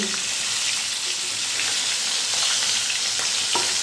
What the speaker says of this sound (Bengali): দেখুন মাছগুলো কিন্তু ভাজা হয়ে গেছে। এখন এই মাছগুলো আমি তুলে নিচ্ছি।